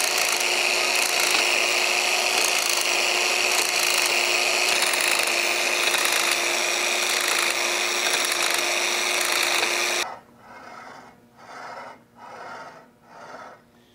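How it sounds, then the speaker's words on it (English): Hand scraping on the carriage of a Lion lathe under restoration produces a loud, continuous rasping scrape for about ten seconds, then gives way to a few quieter, separate strokes. "this is gonna give us the clearance we need to get in there and scrape that easily"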